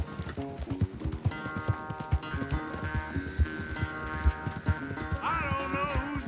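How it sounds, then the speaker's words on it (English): Rhythmic hoofbeats pound quickly at a gallop during a horse race in Red Dead Redemption 2, with a sustained tonal musical score rising beneath them. "Un cheval est plus rapide que le tien, Dutch."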